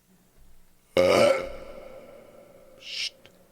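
A single loud, close burp with an echo effect added, its tone ringing on and slowly fading, heard in the video game Martha Is Dead, followed by a brief breathy hiss.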